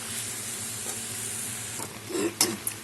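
Chicken pieces and potatoes frying together in a pan for Bengali chicken kosha, a steady low sizzle broken by a few louder stirring scrapes near the end.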